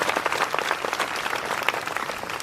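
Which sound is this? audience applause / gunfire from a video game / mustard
audience applause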